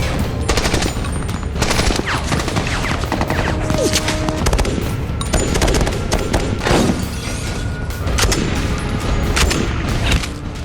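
Dense, indiscriminate gunfire from attackers storming a US consular compound: overlapping machine-gun bursts, single shots and heavy thuds, loud and nonstop for about ten seconds.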